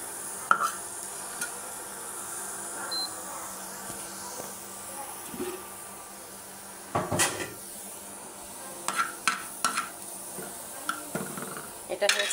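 An onion-garlic tempering poured into a pot of nihari gives a sudden hissing sizzle, followed by clattering of a pot or lid and utensil taps, while a person talks over the cooking sounds.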